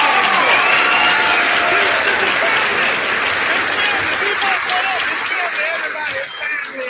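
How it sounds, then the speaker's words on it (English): Sustained applause from a live show audience, loud and steady, with scattered cheers and voices mixed into the clapping. "Let's give a round of applause."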